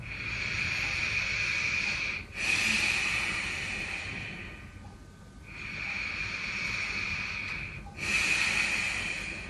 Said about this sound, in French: respirez profondément